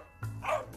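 A dog barks in a few sharp bursts close by, each one loud and clear with no talking over it.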